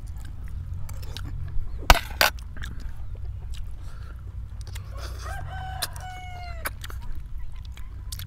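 Chickens cluck and a rooster crows at a rural Thai village home, with a sharp knock near the start and later rising crowing calls over a steady low outdoor rumble.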